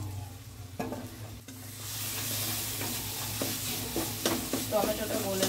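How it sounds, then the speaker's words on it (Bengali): Tomatoes sautéing in a pan with ground coriander, starting quieter and then settling into a steady close sizzle marked by repeated spatula stirring scrapes. "এবার টমেটোটা গলা পর্যন্ত কষে নেবো"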